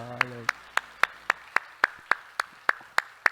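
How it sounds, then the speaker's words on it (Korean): Church congregation clapping together in slow unison at the close of a sermon, a dozen sharp evenly spaced claps in steady rhythm, with a brief voice at the start. "우리 하나님께 영광에 박수합시다."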